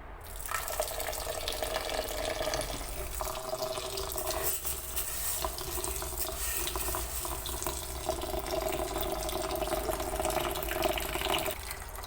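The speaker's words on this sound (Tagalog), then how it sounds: "hugasan ko yung ating malagkit." One kilo of glutinous rice is washed in water for biko, a continuous close splashing and trickling with dripping and swirling throughout, no speech.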